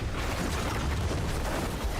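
Diablo 4 ability explosions in a game, a continuous dense rumble of overlapping booms and crackles, steady and loud with a heavy low end throughout.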